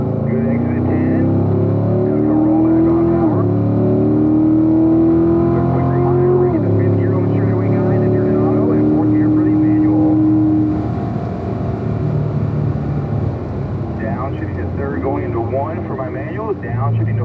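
A race car engine roars loudly out of turn 10 on a circuit, pitch climbing through repeated upshifts and then settling into a steady drone, with voices over the engine.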